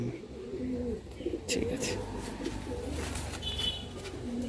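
Tournament pigeons from a trained flock of 14 or 15 birds coo softly in low, throaty bursts, while someone talks over them close by.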